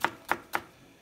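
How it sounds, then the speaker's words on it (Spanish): A knife cutting vegetables into thin strips on a board, three crisp, evenly spaced chops close up, followed by quiet. "también se lo voy a cortar en las mismas tiritas, casi del mismo tamaño que que está el espárragos"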